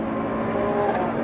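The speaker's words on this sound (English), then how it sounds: "We got a car coming up on us on our right." A fast race car comes up and passes on the right during a lapping session at Thunderhill Raceway, its engine a steady, loud roar over the in-car engine drone, with no talk.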